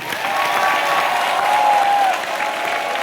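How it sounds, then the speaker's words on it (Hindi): Enthusiastic applause from an audience filling a hall at the Jashn-e-Kashi celebration, a dense, sustained roar of clapping at steady strength throughout, with a faint tonal whistle or feedback line running through it. "ये तालियां हैं असली जश्न"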